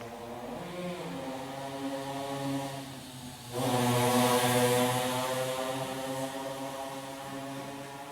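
A motorcycle roars past nearby during a quiet poetry reading, its engine drone rising sharply midway and then slowly fading, with a steady harmonic whine throughout and no talk over it.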